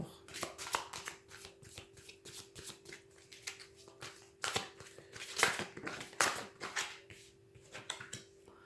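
Tarot cards shuffled by hand before a card reading, a close, soft run of rapid riffling and flicking with a few louder slaps, under a faint steady hum.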